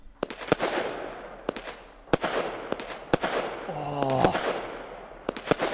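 Rapid pops of a High Falutin 49-shot firework cake in the Fireworks Mania video game, irregular sharp bursts with a crackling whistle partway through, and a voice briefly reacts.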